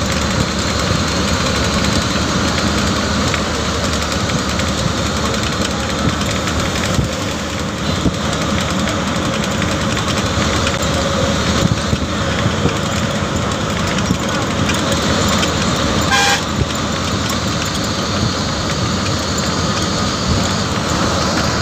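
A TNSTC state transport bus from Coimbatore to Thevaram runs along a highway, its engine droning steadily and loudly throughout with vibration and road rumble; no distinct horn stands out.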